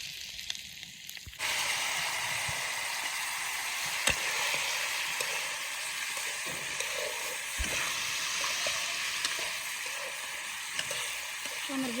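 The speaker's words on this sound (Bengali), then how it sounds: "বুট বাগার দিয়ে নেব।" Chickpeas tempered and frying in a pan for a village iftar, a steady loud sizzle with scraping stirs and occasional spoon knocks, starting up abruptly after a quieter opening moment.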